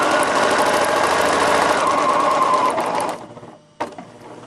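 A sewing machine stitches a straight line through fabric in a steady, fast whirring run for about three seconds, then stops, followed by a short mechanical clunk and a faint rumble.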